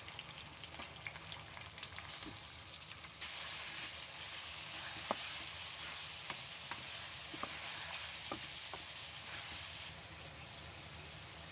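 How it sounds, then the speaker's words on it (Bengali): Meat sautéing in hot oil gives a steady, dense sizzle throughout, with occasional soft ticks and pops, a spatula stirring now and then, and the hiss growing louder partway through. "মাংসগুলো একটু তেলে ভালো করে আমি কষাই ফেলবো।"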